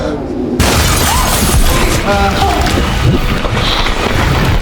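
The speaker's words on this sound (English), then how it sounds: "As the glass of the train window shattered, the liquid poured in rapidly." Subway train window glass shattering, a loud sudden burst that breaks into a sustained wash of crashing, rushing noise lasting several seconds.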